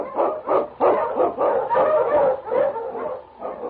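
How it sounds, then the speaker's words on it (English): A husky Eskimo lead dog in snowy Yukon country barks repeatedly, a close, loud run of sharp yips and bow-wows in an uneven rhythm, with no voices over it. "The Wonder Dog King, swiftest and strongest of Eskimo lead dogs"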